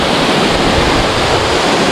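Salewangan waterfall in Gowa pours and splashes in a loud, steady, broadband roar of rushing water, continuous and close with no voices.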